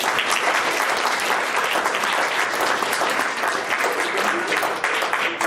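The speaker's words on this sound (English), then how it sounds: "that applause was not a stand-up show applause" Dense, steady applause from a lecture audience welcoming a speaker to the stage, a thick wash of many hands clapping at once, loud and continuous for several seconds with no talking over it.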